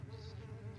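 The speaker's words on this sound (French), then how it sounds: "J'adore le bruit des mouches sur mon oreille gauche" Flies buzzing in the Amnesia video game, a steady close droning hum that holds without a break, with no talk over it.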